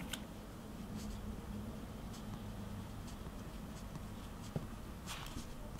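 A pen taps dots onto paper while inking a daisy drawing, faint scattered light ticks and scratches over a soft room hiss, close and quiet.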